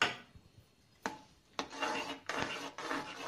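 A spoon scrapes and rubs through thick cornflour halwa with cashews and chickpeas in a pan, a few distinct close strokes of stirring with no talk.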